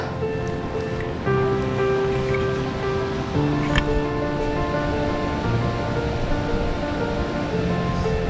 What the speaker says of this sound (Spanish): Vean esa cascada, qué bacano.